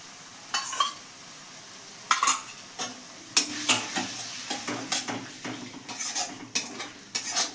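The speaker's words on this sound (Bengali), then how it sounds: "টক দইটা দিয়ে একটু কষে নেব।" A spoon scrapes and clinks against a pan in repeated strokes while masala and sour yogurt fry with a soft sizzle underneath, close and without voices.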